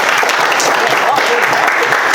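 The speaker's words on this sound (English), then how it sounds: "Another round of applause for Sarah" Wedding guests applaud the bride Sarah during the speeches at a reception, a loud, steady burst of clapping filling the room with scattered voices underneath.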